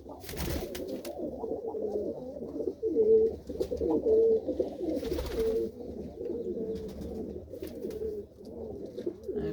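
Pigeons, kept racing birds from a paired loft, coo steadily in low rolling phrases close by, several birds overlapping with no talk.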